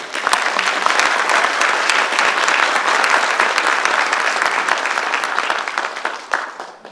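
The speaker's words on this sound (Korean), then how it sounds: "큰 박수 한번 보드주니다" Loud, sustained applause from a sizable audience at a labor director conference, many hands clapping steadily for several seconds before tapering off at the end.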